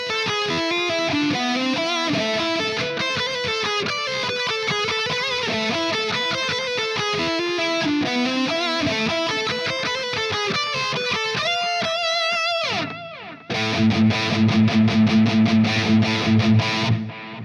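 Distorted electric guitar through the ML Sound Lab Amped Icon amp simulator plays a fast riff of chugging, overdriven notes, breaks off briefly, then returns with heavier, sustained crunchy chords.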